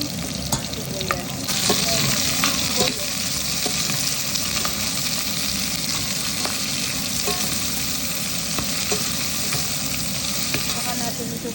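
Shrimp paste (bagoong alamang) with garlic and onion sautéing in a pan for a Filipino ginataang gulay with squash, okra and eggplant; a steady, close sizzle with occasional spatula scrapes, no talking.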